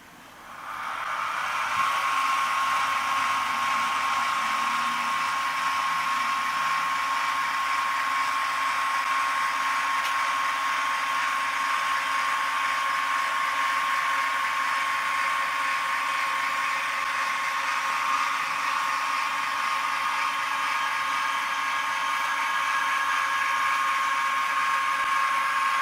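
The motors of a SkyWatcher AZ-GTi telescope mount, carrying a MAK127 telescope, slew with a steady, close, high mechanical whir and a thin whine. The sound starts up, holds constant for about twenty-five seconds and has no voices over it.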